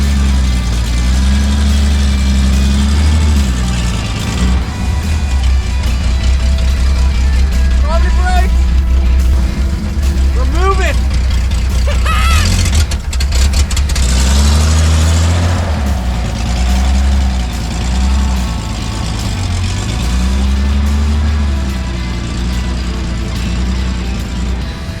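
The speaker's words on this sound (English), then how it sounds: "So let's jump in the truck, get her started," Toyota FJ55 Land Cruiser truck, long abandoned in the woods, running with a loud, steady low engine drone that revs and shifts as it moves off, while people talk over it throughout.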